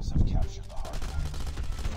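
A PDW fired in Call of Duty Mobile, a rapid close burst of shots rattling through, with a voice chattering over the gunfire.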